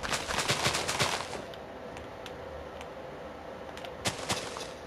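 A homemade iron-looking cannon in Minecraft firing off a quick rapid cluster of sharp blasts, then sparser single pops later, moderately loud with no talk.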